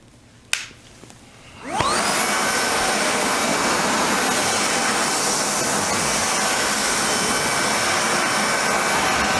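A NaceCare RSV 150 electric backpack vacuum cleaner switches on after a couple of clicks, spinning up with a rising whine into a loud, steady, close roaring hum that holds to the end.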